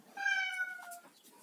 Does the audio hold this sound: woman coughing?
no